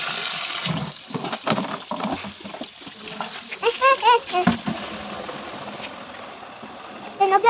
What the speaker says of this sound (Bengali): তারপরে আমাদের ড্রামগুলো ভরছে